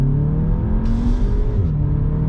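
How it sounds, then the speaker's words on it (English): A new CUPRA Ateca engine roars steadily under full-throttle acceleration from 30 mph, its exhaust droning loud and close with a rising, throaty tone. "I can hear the exhaust is a little bit tuneful"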